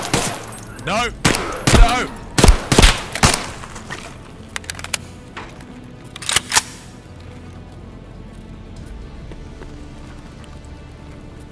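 Rapid gunfire bursts in Escape from Tarkov, several loud volleys in the first few seconds, then sparse single shots and quieter ambient game noise; a voice briefly shouts.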